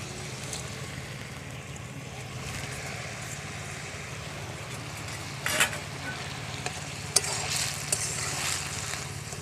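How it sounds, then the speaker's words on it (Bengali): A Bengali prawn curry with tamarind water simmers in a pan with a low, steady bubbling hiss. A few brief clinks and splashes stand out near the end, and no one speaks. "তরকারিটা ফুটছে, ফোটার মুখে আমি চিংড়িগুলো দিয়ে দেবো।"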